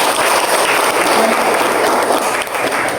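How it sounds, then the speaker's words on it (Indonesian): Audience applause at an academic teaching session, dense steady clapping filling the room at full loudness for the whole stretch, with no voices over it. "Ya, tepuk tangan dulu"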